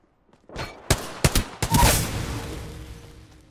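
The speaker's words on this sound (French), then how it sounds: "On me tire dessus." Several sharp gunshots ring out in Apex Legends, three or four loud separate cracks within a second, followed by a fading rumbling tail.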